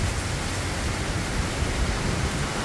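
High wind drives rain during a hurricane-force storm in Georgia. A dense, constant roar of wind and rain fills the whole clip, steady and loud, with no voices.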